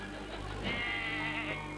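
Sheep bleating, a single drawn-out wavering bleat with a nasal, harmonic tone over a steady low background hum, fairly close and clear.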